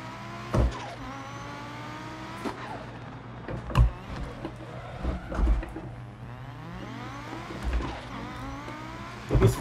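A rally car engine in Dirt Rally revs and drones steadily, with pitch rising and falling through gear changes and sharp transient knocks and thumps scattered throughout.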